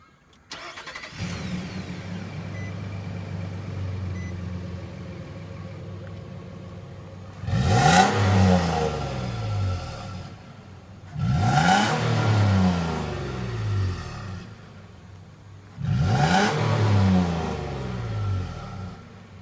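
A 2012 Nissan Frontier PRO4X pickup engine idles after starting, then revs hard three times in quick succession, each rise loud and close before dropping back as the truck pulls away.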